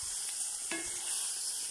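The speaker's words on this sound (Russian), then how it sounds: "Ребра жарим тоже до золотистой корочки" Pork ribs frying in oil in a kazan, reused from frying fish, giving a steady close hiss of sizzling fat with a brief clatter of stirring partway through, no voices.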